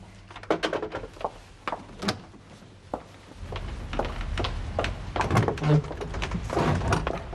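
A front door being answered in a 1986 Coronation Street scene: close clunks and handling knocks, a few footsteps, then steady low room noise.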